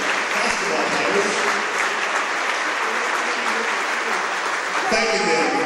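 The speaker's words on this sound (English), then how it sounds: "how about a nice round of applause for our senior cheerleading and basketball players" A school gym crowd at a girls' basketball game claps and cheers steadily for the senior cheerleaders and basketball players, a dense sustained applause throughout.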